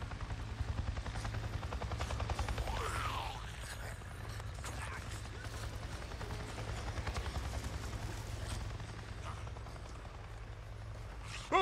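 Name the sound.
helicopter flying overhead in the video game Days Gone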